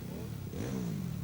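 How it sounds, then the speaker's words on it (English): A Yamaha YZF 450 four-stroke micro sprint engine revs up at a speedway, its rising engine note climbing and holding over a dense, noisy crowd and track background. "the big four-stroke, the Yamaha-powered YZF 450 of Ernie Avas makes his way to Victory Lane"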